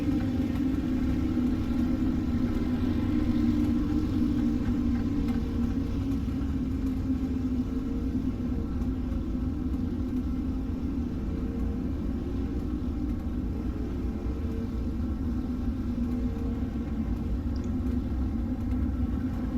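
A pack of dirt street stock race cars at virtual Bristol Motor Speedway in the iRacing simulator, a continuous low engine drone holding steady throughout without voices.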